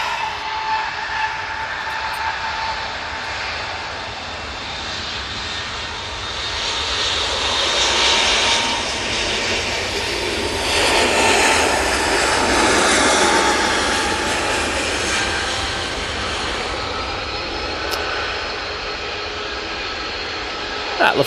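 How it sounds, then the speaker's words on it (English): A Lufthansa Airbus A320neo takes off from Manchester Airport bound for Munich, its engine roar building and swelling through the middle before easing into a sustained drone, heard alone at moderate loudness. "That Lufthansa A320neo is now on the way to Munich."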